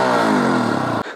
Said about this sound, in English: the delivery of high notes or the delivery of thick notes in this exhaust is pretty smooth